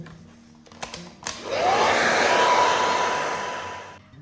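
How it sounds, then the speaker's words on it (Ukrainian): A hair dryer drying watercolor paint switches on after a few clicks and blows with a steady, loud whooshing hum for a few seconds before cutting off. "треба взяти фен і попрацювати феном, підсушити"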